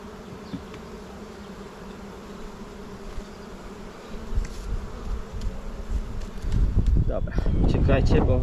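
Honeybees buzz in a continuous drone that swells louder toward the end as a second hive box is added, with close rustling, bee-brush sweeping and handling noises mixed in.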